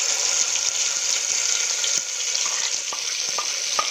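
Chili and garlic paste frying in a pan for a restaurant-style rajma masala, a bright continuous sizzle close up, with soft taps and stirring sounds scattered through it and no one speaking.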